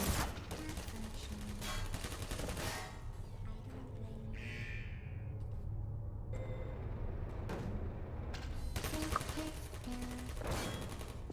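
Turrets in the video game Portal fire in rapid bursts of automatic gunfire, fairly faint and mixed with other game sounds and brief electronic tones.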